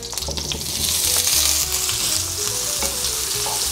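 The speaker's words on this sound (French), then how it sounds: "Poêle sur le feu, j'ai mis de l'huile d'olive dedans, vous le voyez. On va faire revenir nos pommes de terre." Potatoes frying in olive oil in a pan over high heat give a steady loud sizzle, with soft stirring scrapes and clinks running through it and no voices.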